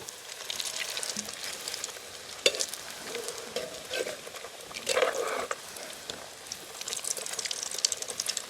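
Egg cutlet frying in oil in a village kitchen, a soft crackling sizzle heard close by with bursts of bubbling and a few clatters of utensils, fairly quiet throughout, with no talking.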